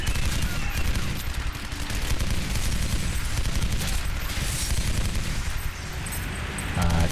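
Gunfire in the video game Legendary keeps up as a dense, continuous rattle of rapid shots at close range, loud and unbroken throughout, with no talk.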